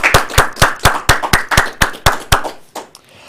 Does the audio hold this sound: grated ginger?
no